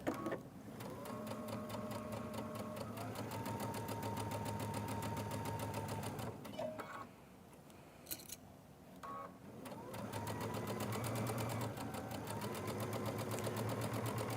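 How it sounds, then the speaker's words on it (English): A sewing machine stitching a tumbler-pattern table runner: a rapid, even mechanical chatter that runs for several seconds, pauses briefly with a few thumps, then resumes at the same steady pace, heard up close. "Look how nicely you're sewing that."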